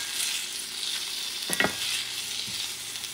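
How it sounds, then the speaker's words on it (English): Bacon, smoked sausage, onions and green peppers sizzle steadily in a pan as a spoon stirs through them, with a couple of louder scraping knocks midway. "Mix everything together."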